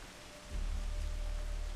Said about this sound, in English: Spot of rain in the air.